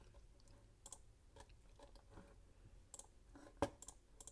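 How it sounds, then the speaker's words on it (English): Scattered sharp clicks of a computer mouse, irregular and close, some quick pairs and one louder click, with no talking. "This is just endless clicking."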